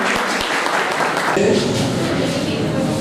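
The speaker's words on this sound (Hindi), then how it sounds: "आप सबकी भरपूर तालियों में।" An audience claps loudly and steadily at a school Independence Day celebration, a dense, continuous wash of applause that fills the whole stretch.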